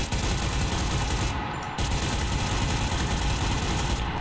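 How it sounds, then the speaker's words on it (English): Machine gun in a first-person shooter game firing continuously and loudly, a dense unbroken burst of rapid shots with one very brief pause, no talk over it. "I think this machine gun also got buffed, because it used to be extremely hard to control"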